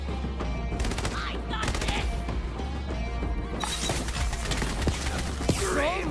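Gunfire from weapons in the video game Borderlands 3: rapid bursts of shots and crashing impacts in clusters, with quieter gaps between the volleys, and a player voice talking now and then.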